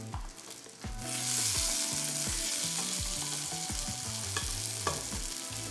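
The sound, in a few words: meat frying and sizzling in a pan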